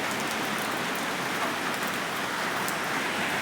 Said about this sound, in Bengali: বৃষ্টি কিভাবে পড়ছে।